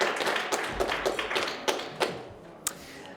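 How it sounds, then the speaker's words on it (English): An audience in a hall at a post-concert discussion claps together, a dense patter of hands with louder individual claps that thins out toward the end. "And yes, round of applause."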